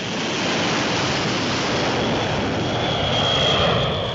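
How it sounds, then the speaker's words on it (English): A large US Air Force Cold War bomber with eight turbojet engines roars past, a loud, steady, broadband jet rumble that swells slightly toward the end, with no voices. "this massive superstructure of a plane, which needs 8 turbojet engines to fly"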